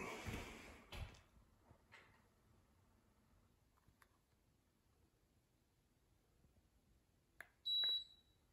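A single short electronic beep from a Pioneer 12k mini split air conditioner sounds near the end after quiet room noise and a few faint clicks and rustles.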